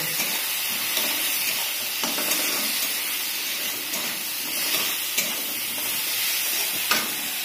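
Potatoes and peas sizzling in a hot pan, a dense steady hiss broken by a few soft stirring knocks, close up and without talk.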